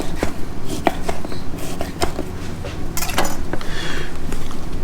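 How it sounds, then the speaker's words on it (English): A knife chops ribeye steak on a cutting board, sending out irregular sharp knocks and thuds with scraping in between, close and fairly loud against a steady kitchen background. "So I'm gonna just chop it up."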